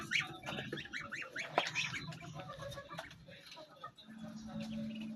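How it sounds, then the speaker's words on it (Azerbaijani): Geese honk in a rapid series of nasal calls at the start, followed by softer scattered bird calls and low background noise. "Qazlarım maşallah, ördəklərim."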